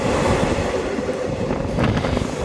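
A Hospet DEMU passenger train between Ballari and Davangere runs steadily on the rails: a continuous, loud, close rumble with a faint clatter beneath it and no one speaking.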